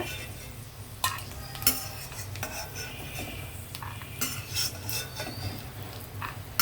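Peanuts and cashews roast in ghee in a pan while a metal spoon stirs and scrapes, giving soft sizzling with irregular clinks and scraping taps close up.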